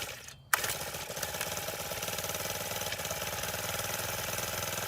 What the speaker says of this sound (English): It's a 1 or 2 pull start. It has a choke. I push the prime button one time, turn the choke, and pull the handle.